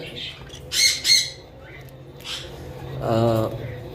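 A pair of red conure parrots gives a few loud, harsh squawks nearby, two quick calls followed by a longer, rougher cry.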